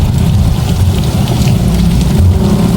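Steady rain pours down in the night after a long downpour, a dense continuous hiss and patter on surfaces with a heavy low rumble underneath, loud and close throughout with no talking.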